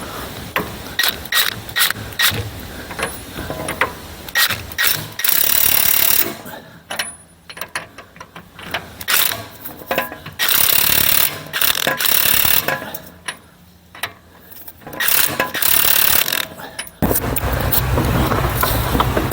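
Bursts of an impact wrench on farm equipment nuts and bolts, loud rattling hammering runs separated by short pauses, with mechanical clanks between.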